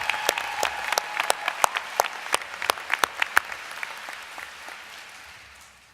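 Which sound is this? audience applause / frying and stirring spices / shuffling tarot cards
audience applause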